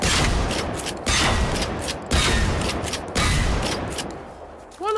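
Pistol gunfire in the video game Generation Zero, delivered as four loud bursts of rapid spam-firing, each about a second long with short gaps, ending in a brief mechanical reload click.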